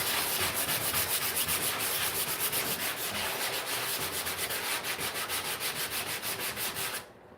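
Hand sanding of primer on the bodywork of a classic British car: rapid, steady back-and-forth rasping strokes, close and loud, stopping abruptly at the end.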